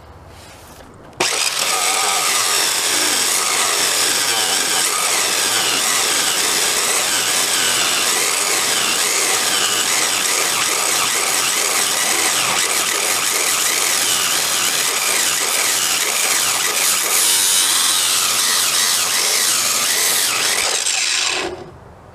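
A power saw cutting through rusty scrap metal during a fireside restoration, one loud continuous grinding whine that starts abruptly, holds steady for about twenty seconds and then cuts off.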